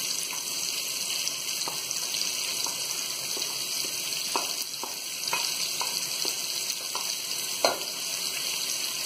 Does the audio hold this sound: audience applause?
no